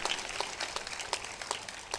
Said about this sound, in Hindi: ताली बजा दो इनके लिए एक बार।